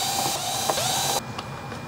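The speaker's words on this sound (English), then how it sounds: "Next, we're going to go ahead and unscrew the four screws here." Screws are taken out of a Bobcat 430 controller base gauge unit, likely with a powered driver, giving a steady close whirring and mechanical ratcheting with a pitch glide, then a short click and a quieter hum.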